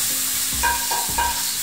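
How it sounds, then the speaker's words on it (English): Cauliflower sizzles and crackles in a hot frying pan, with a couple of stirring scrapes and clinks partway through; steady frying hiss throughout. "Give a sizzle."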